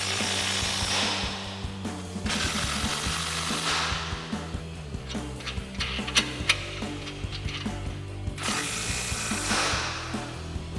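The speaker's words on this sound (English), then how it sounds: "we've got our 19mm socket on our impact. Tighten these up." An impact wrench with a 19mm socket tightens suspension bolts on a 2024-2025 Tacoma during a lift kit install, loud bursts of rattling hammering separated by short pauses and clicks, close and alone.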